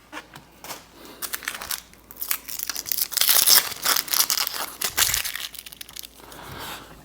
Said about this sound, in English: Right down through the middle and pull your skin off.